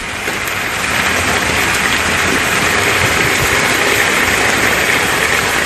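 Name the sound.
rain falling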